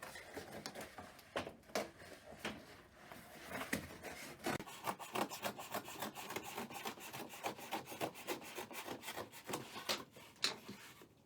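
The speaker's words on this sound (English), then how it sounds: "I'm going to take my scissors and I'm going to cut down the seam right here in between the two halves" Scissors cut down a seam between two halves of material, making a close, steady run of dry rasping snips and rubbing crunches that repeat fairly evenly and quietly throughout.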